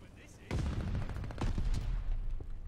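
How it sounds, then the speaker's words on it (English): Rapid bursts of gunfire in a ranked Hardpoint match of a first-person shooter game, dense and loud from about half a second onward and continuing with scattered rattling shots, with a voice faintly underneath. "I just keep getting shot in the back."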